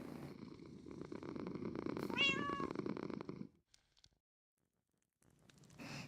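A cat in the Minecraft video game purrs steadily, then gives one clear rising meow over the purring before the sound cuts to near silence and briefly resumes.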